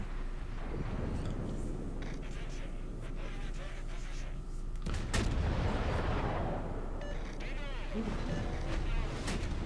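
Naval gunfire from warship guns in the World of Warships game, a heavy boom in the middle followed by rumbling, set against steady engine and sea drone, with a voice talking over the battle.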